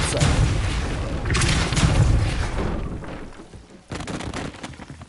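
A Depulso spell in Hogwarts Legacy is cast as a heavy, close whooshing boom with a rumbling thud. It fades out, then a second softer impact follows.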